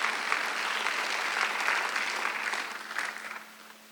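A church congregation at a Sunday worship service applauds together, a steady wash of clapping from many hands that swells briefly and then tapers off.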